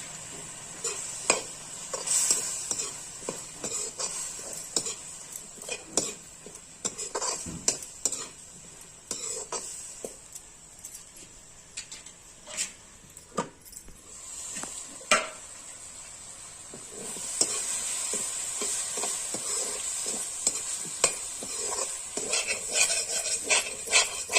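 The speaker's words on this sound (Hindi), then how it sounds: "इसे हम कम से कम 5 मिनट तक हम इसे पकाएंगे, भूनेंगे" Garlic-ginger paste masala frying in a pan for a Chhattisgarh-style greens dish: a steady sizzle runs throughout, with repeated scraping and clinking of a spoon stirring against the pan, growing louder toward the end.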